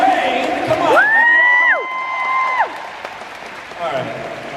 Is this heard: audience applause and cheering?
yes